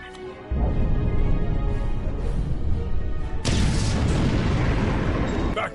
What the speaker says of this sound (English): So taking some pointers from Kirk, we make a couple of those bamboo cannons and just blow the wall up.